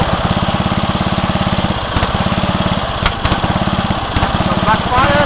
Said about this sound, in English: Some backfire.